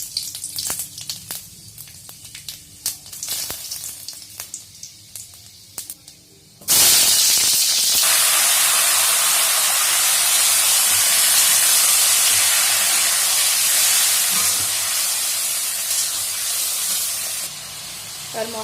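Spices hit hot oil for a prawn and mixed vegetable curry and burst into a loud, sudden sizzle that holds as a steady hiss, after a few light clinks of utensils beforehand.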